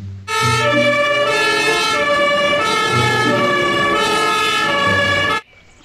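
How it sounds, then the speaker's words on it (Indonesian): A toy fire truck's siren wails loud and steady for about five seconds on its own, then cuts off abruptly. "Wah, yang ini mobil pemadam kebakaran"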